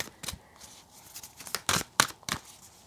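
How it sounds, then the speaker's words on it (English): Tarot cards are shuffled by hand close by, giving a faint run of short, crisp riffling and slapping bursts at irregular intervals with no talking. "So I'm meant to be shuffling under the camera because I want you to see."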